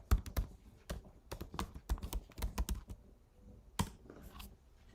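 Quiet, close keystrokes on a computer keyboard come in irregular clusters of taps with short pauses between bursts, alone without talk.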